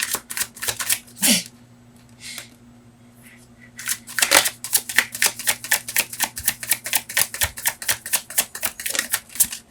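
Tarot cards being handled and shuffled, giving a long run of rapid, sharp, crisp snaps and flicks that build into a loud, steady rattle close by, with no talk over it.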